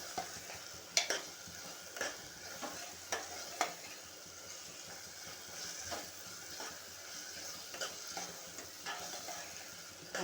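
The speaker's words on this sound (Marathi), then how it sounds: "छानपैकी तेल सुटेपर्यंत परतूया" Red chilli masala and ginger-garlic paste sauté in oil for palak paneer, a soft steady sizzle under occasional spoon scrapes and light taps against the pan, fairly quiet and without voices.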